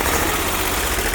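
A Bolens 1600H garden tractor engine runs steadily just after starting, a close, loud, continuous mid-pitched idle with a slightly uneven rumble and no talk.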